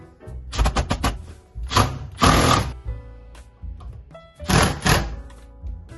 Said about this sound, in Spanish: Colocamos la máquina y fijamos el primer tornillo.